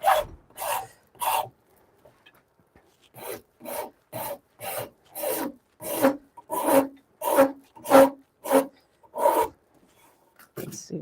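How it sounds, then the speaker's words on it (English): A wooden shillelagh is sanded by hand with finer-grit paper, making close, distinct rasping strokes in irregular bursts with short pauses between them. "Now I'm flipping over to the finer grit on the rest to get rid of some of those more aggressive marks."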